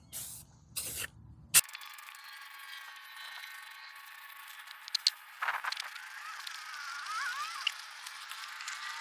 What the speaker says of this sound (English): Spray painting in the grass on a nice windy day.